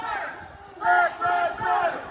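Large outdoor crowd of about 1,500 rally marchers in Newport, Rhode Island, chanting in loud rhythmic surges, with three bursts of unison shouting over a background murmur.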